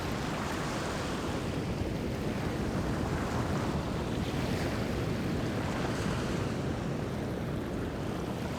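Ocean surf at Desert Point rolling in as a continuous broadband wash of waves, mixed with wind buffeting the microphone, with no voices.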